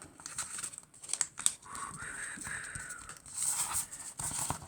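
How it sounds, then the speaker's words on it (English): A dollar bill is folded into an origami angel fish, with close, quiet crinkling and sharp paper creases coming in irregular bursts and no talk. "now all we do is take each one and fold it over again"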